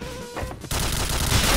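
Shooter game gunfire rips out loudly, a dense continuous burst of shots filling the last second after a brief quieter lead-in.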